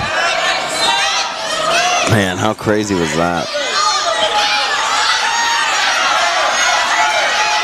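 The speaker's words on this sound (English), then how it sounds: "This crowd really getting into it." Crowd cheering and shouting at an all-star high school wrestling event, Louisiana vs. Mississippi, a loud sustained roar of many voices filling the venue while someone speaks over it.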